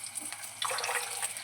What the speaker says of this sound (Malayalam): 5 കപ്പ് തിളച്ച വെള്ളം നമുക്കിതിൽ ഒഴിച്ചു കൊടുക്കണം